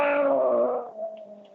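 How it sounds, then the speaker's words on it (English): A cat gives a loud, drawn-out moaning yowl that fades and wavers over about a second and a half, close by in a house. "that's a cat"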